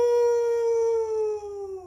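A person imitates a wolf with one long, steady howl held for nearly two seconds, slowly sliding down in pitch at the end, close and fairly loud with no other sounds.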